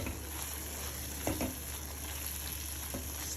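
Prawn sukka fry sizzles steadily in a pan with a low continuous frying hiss, broken by a few soft clinks and scrapes of stirring, no voices.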